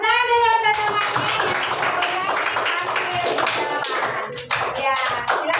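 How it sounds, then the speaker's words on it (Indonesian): Children in a classroom clap their hands together in a brisk, continuous burst of fairly close, loud claps. Voices briefly overlap at the start, and the clapping keeps up to the end. "Tepuk tangan dulu teman-teman."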